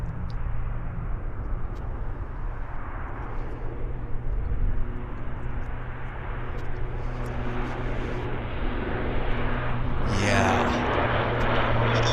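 An airplane departing from the north runway at Vancouver Airport, a steady distant jet roar that swells slightly toward the end, heard under faint background voices.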